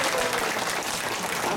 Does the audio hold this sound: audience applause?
yes